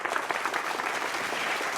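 Audience in a packed hall at a Tamil school and college students' Thirukkural speaking competition breaks into steady, dense applause, many hands clapping together at an even level throughout.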